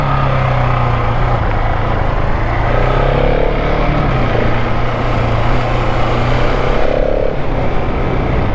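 A KTM 690 SMCR motorcycle runs under a rider, its engine a loud, steady drone close by. A low pitch shifts a few times as the throttle changes, and no one speaks.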